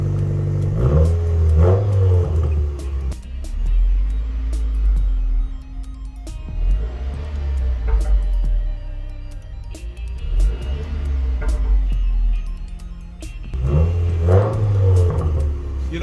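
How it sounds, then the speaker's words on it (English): A Subaru WRX with a muffler-deleted exhaust revs loudly and close by, with several throttle blips rising and falling over a deep, rumbling idle, and a turbo whir audible between the pulls. "Give it a rev, man."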